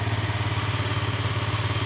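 A motorcycle engine idles with a steady low, slightly uneven putter, close and loud, with no talk over it. The engine had been misfiring, sputtering when revved and stalling when the throttle was released.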